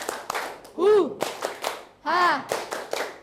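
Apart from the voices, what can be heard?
classroom group clapping game "tepuk rimba"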